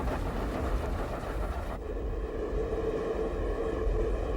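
A steam express train on a single-track main line in China runs steadily with a dense, continuous rumble and rushing noise, heard from on board or close by, with no voices.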